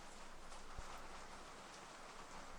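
Soft, continuous video game rain ambience, a steady even wash of hiss at low volume with no voices.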